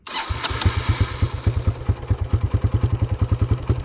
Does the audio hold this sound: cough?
no